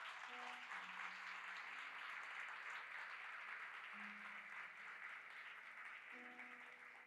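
A church congregation claps steadily and continuously throughout, with faint sustained tones from an instrument underneath.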